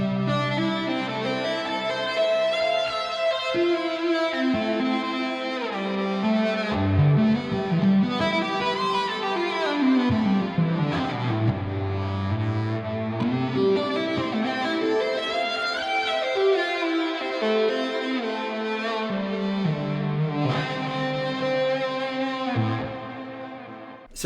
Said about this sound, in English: Cloudy lead synth.